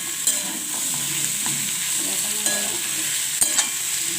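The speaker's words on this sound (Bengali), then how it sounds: "আলু আমি এটা একসঙ্গে ভালো করে ভেজে নিচ্ছি" Potatoes sizzle in hot oil in a pan while being stirred, a steady frying hiss broken by occasional scraping knocks of the spatula, close and clear with no voices.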